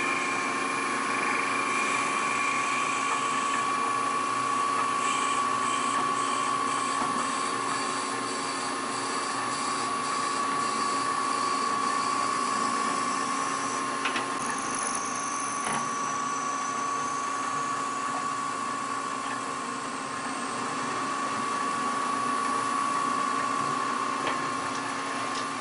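A drill with a Jacob's chuck bores into an awl handle, giving a steady, sustained whine that runs evenly for nearly half a minute, with slight shifts in load as the bit works into the wood.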